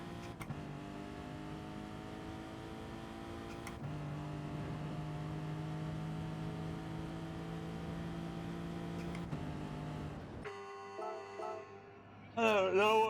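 BMW race car engine in the GT Sport video game during an FIA race, a steady droning tone held at high revs with brief shifts, before a person starts talking near the end.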